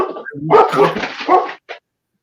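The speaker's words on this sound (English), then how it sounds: "They're barking at the landlord" A dog barks in a quick, loud burst of several yaps, ending with one short yelp after a brief pause.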